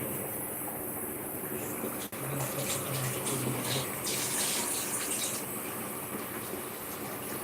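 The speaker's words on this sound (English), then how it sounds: "So let me fetch water down for cooling the egg." Tap water runs steadily in a kitchen while rice and an egg are cooking, a continuous hissing rush that holds at the same level throughout.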